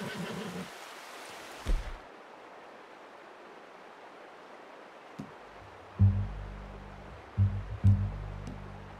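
A horse in Red Dead Redemption 2 on Xbox One gives a short, faint neigh at the very start, followed by near silence and a few soft, low thuds.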